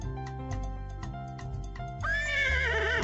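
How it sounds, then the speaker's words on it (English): A horse in the Pajama Sam 4 video game gives a loud, quavering neigh near the end, after a stretch of plinking game music. "Nice horsey."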